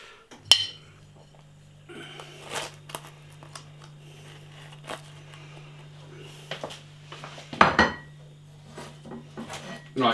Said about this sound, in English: I want to take the lid off so I can cool it down.